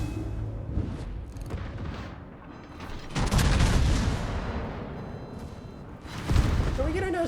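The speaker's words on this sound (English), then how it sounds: "I'm getting my guns turned, so I can put shots on that Anchorage to help the shield." Naval guns booming from a World of Warships style battleship firing on an Anchorage-class ship, several heavy blasts with a rumbling roar around the middle and a sharp boom near the end, mixed with battle noise and talk throughout.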